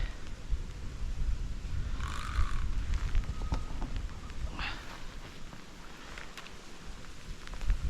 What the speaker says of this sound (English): it's just started to rain as well